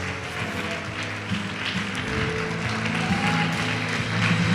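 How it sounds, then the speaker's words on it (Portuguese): A church congregation applauds loudly, a broad wash of clapping that keeps building over several seconds, with music or voices faintly underneath. "Vamos aplaudir bem alto,"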